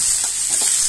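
Onions and soya chunks frying in a pan, a steady bright sizzle with faint stirring scrapes, close and continuous for under a second.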